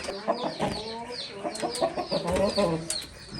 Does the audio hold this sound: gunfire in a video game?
no